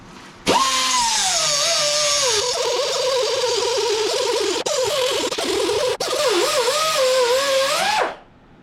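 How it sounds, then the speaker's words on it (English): A Harbor Freight air die grinder with a 3 to 4 inch cut-off disc slices through a tie-rod on an MF40 tractor backhoe, a loud high whine that wavers in pitch as it bites, running steadily for about eight seconds before spinning down. "I'm just using a die grinder. Probably a Harbor Freight model with a 3 or 4 inch disc on the end"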